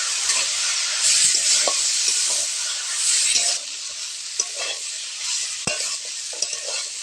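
Spiced vegetables with potato, eggplant and pumpkin-leaf stems frying in a pan with turmeric, chili powder and cumin paste, a loud steady sizzle that drops sharply midway as a little water goes in, with scraping stirs throughout.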